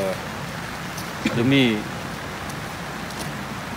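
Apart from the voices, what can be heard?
rain falling at night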